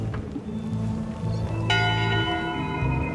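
Ship's bell in Return to Monkey Island, a single loud close metallic strike that rings and decays over a low musical backdrop, heard alone without talk.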